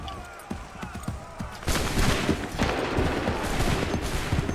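Musket volleys crack out in the Assassin's Creed 3 video game, a dense fusillade of overlapping gunshots that thickens into continuous loud firing partway through, with shouted battle commands mixed in.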